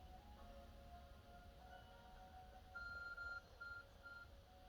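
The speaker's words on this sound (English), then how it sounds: "Your ARC phone is beeping." A phone-like device in a Pokémon video game beeping: short electronic tones repeat in a quick, steady pattern over a soft game-music bed, with no talking.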